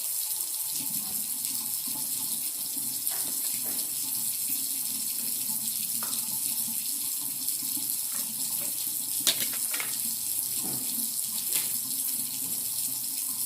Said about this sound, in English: I'm gonna let my hot water